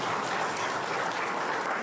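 Applause from an audience at a public safety awards ceremony, with continuous, even clapping from a crowd lasting the whole short moment, at moderate loudness and without talk.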